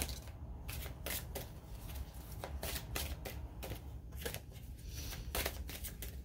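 A deck of oracle cards is shuffled repeatedly at close range, quick papery riffles and taps coming in uneven bursts over a quiet background.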